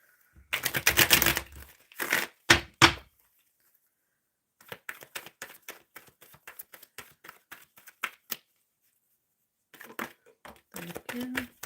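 Tarot cards being shuffled up close: a few dense, crackling bursts, then a quieter run of rapid papery clicks and riffles, with a short final flurry after a pause.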